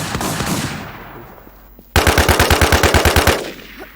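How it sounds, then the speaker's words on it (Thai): Gunfire in the video game WarZ: a fading shot tail, then a loud close burst of about a dozen rapid evenly spaced automatic rounds, with no talk. "ยิงกันตายวะ ฮัลโหลครับยิงกันตายปะฮะ"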